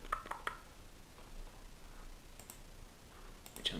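A few faint, sharp computer mouse clicks arrive in short clusters near the start, once more around the middle, and again at the end, with quiet room tone between them.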